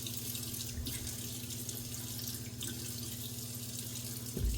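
Tap water running steadily into a bathroom sink before shaving off a five-month beard, a close continuous splash with a low hum underneath, no talking.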